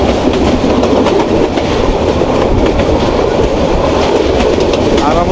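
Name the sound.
Jayantika Express train running, heard from inside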